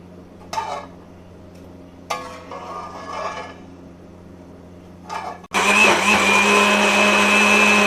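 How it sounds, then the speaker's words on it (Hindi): A kitchen blender grinding onions and tomatoes, with a few short bursts and handling clatter first, then a loud, sustained motor whir that runs steadily to the end. "देखो मैंने ना प्याज और टमाटर अच्छे से ब्लेंड कर लिए हैं।"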